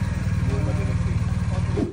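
A 2023 BMW GS1250 motorcycle engine running steadily at idle, loud and close, with a continuous low throbbing pulse and no break.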